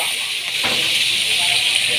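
Garlic and onion sizzling in a hot pan for spicy pork, a steady close hiss of frying with a faint scrape near the start, no clear voice over it.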